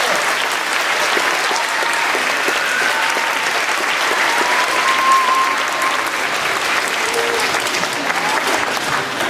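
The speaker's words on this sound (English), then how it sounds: "Give yourselves a big round of applause" Elementary school students at an award presentation applaud together, a steady, dense, sustained wash of clapping from a large crowd in a hall, with no break.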